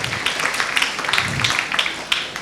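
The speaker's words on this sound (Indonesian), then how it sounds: "tepuk tangan buat kita semua" Audience applause at an interfaith peace gathering, a dense patter of many hands clapping fairly close and steady, with a few sharper claps standing out.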